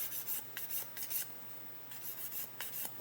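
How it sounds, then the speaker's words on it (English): Plastic on a 1/8 scale Porsche 917 model kit being sanded with a 600 grit sanding stick: soft, quiet rasping strokes in a steady back-and-forth rhythm, heard close with a short pause midway. "So what I'll do is just I've got a 600 grit sanding stick here."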